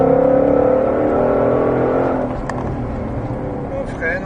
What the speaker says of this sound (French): On attend d'avoir le volant bien droit et on accélère.